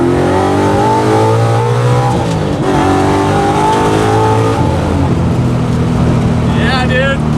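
A widebody 1965 Ford Mustang restomod with a swapped Coyote V8 revs hard and loud up close, the engine note climbing and falling through several throttle blips with a steady rumble between.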